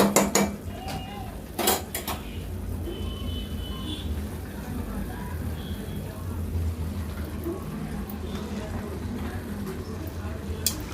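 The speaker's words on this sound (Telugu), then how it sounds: "ఇప్పుడైతే చిక్కుడుకాయలు వేసేసుకుందాం" Broad beans go into a pan of tomato curry with a few sharp metallic clatters of utensil against pan early on, followed by softer low scraping and stirring noises nearby.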